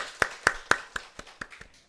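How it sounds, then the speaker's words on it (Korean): A small church congregation at a Wednesday service claps in welcome: about seven distinct sharp claps in an irregular rhythm, loud at first and fading, with no voices. "우리 박수로 환영해 주시면 고맙겠습니다."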